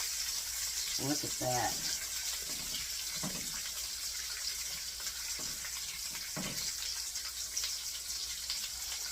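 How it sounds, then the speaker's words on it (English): Potato flautas and potato tacos frying in oil, a steady broad hiss running throughout with a few brief bursts of talk over it. "I'm going to fry them all up"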